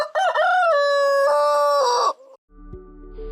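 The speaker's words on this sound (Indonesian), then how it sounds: "Suara kokok ayam dapat dikenali dari bunyinya yang khas" A male chicken crows loudly and close, one long rising-and-falling call, followed by softer clucking and low background noise.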